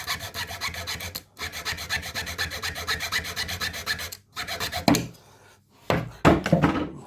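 A junior hacksaw cuts slot car track catch fencing in steady, rhythmic back-and-forth rasping strokes, close and clear, pausing twice, then a few louder scraping strokes near the end.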